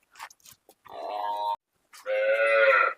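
A Murrah buffalo from Haryana at a buffalo sale point gives two drawn-out, moaning moos, close and loud, with a few short snorts and noises between them.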